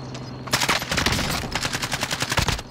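Rapid automatic rifle fire from a CR-56 AMAX in the video game Warzone, loud and close, with a long sustained burst followed by shorter bursts.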